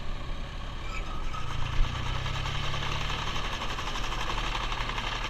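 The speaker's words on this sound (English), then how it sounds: "You can hear my tractor's basically just kind of a little bit over an idle." A tractor engine runs steadily just above idle while mowing hay with a sickle mower, a continuous low rumble with a rhythmic mechanical clatter, close and fairly loud throughout.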